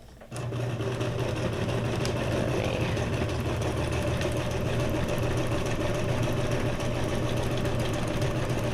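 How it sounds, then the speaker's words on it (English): A sewing machine stitches through junk journal pages, its motor humming steadily and close for the whole stretch with no pauses and no voices. "I wish I had a machine that had more types of stitches"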